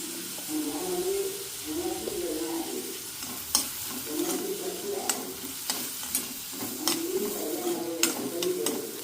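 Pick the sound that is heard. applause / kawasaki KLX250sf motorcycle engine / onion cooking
onion cooking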